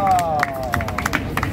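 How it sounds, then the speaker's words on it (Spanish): A live crowd at a Spanish-language rap battle breaks into a short burst of clapping and cheering, with sharp handclaps over a murmur of crowd babble and a sliding tone running underneath. "Gracias por su aplauso"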